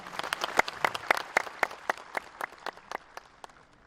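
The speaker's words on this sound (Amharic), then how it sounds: "በታላቅ ጭብጨባ" Audience applause at an official ceremony in the Amhara region, a run of distinct, evenly spaced claps fading gradually, fairly close and with no talking over it.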